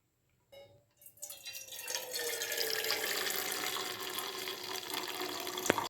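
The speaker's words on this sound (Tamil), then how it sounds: "இந்த தண்ணியை நம்ம நல்லா வடிச்சுட்டு கடைஞ்சிக்க வேண்டியதான் இப்போ வடிகட்டிக்கலாம்" Water pours out in a steady rushing stream, drained from pressure-cooked eggplant, splashing into a sink after a couple of brief clinks at the start.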